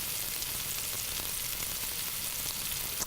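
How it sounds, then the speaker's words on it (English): Meatballs for meatball Parmesan brown in a hot pan, giving a steady, dense sizzle and crackle that holds evenly throughout with no voices. "Maybe I'll just be quiet for a minute and let you guys listen to the sizzle."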